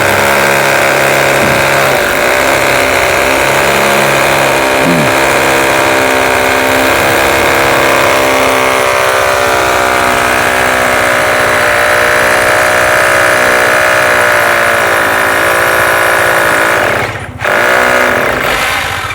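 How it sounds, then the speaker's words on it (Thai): Power drill boring into a concrete house column on a new home build site, a loud continuous motor whine held steady for the whole stretch, with a brief dip near the end. "อันนี้กำลังเจาะเสาแล้วก็เจาะอันนี้เพื่อได้เสียบเหล็กไว้"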